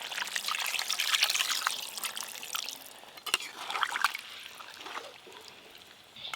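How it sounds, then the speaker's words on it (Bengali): Water pours in a steady trickling stream into a cooking pot of goat mutton and potatoes, splashing and gurgling before easing off and briefly picking up again. "এবার আমি পরিমাণ মতো জল দিয়ে দেব"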